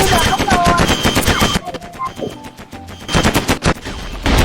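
Rapid machine-gun fire in the blocky video game Mini World during a space-war map chase, loud close bursts that pause briefly and then resume.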